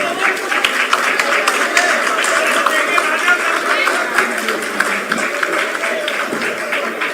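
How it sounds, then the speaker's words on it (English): An audience at a book launch applauds to welcome guests, a dense steady clapping that fills the room at moderate loudness, with a few voices murmuring underneath. "Please welcome all our guests with a big round of applause"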